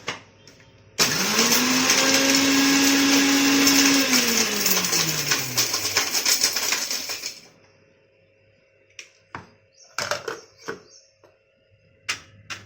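A mixer grinder roars loud and steady for about six seconds while grinding split mustard seeds for mango pickle, its pitch sagging as it spins down, followed by scattered knocks and clatters of the jar.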